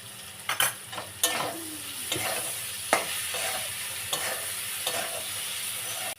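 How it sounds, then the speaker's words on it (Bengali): A spice paste of ground coriander, cumin, ginger and chili with turmeric and salt fries in a pan, sizzling softly while a spoon scrapes and stirs in repeated sharp strokes, close by and with no voices. "মশলা ভাজা হয়ে গেছে, কাঁঠাল দানা দিলাম, দিয়ে আর একটু ভেজে নেব।"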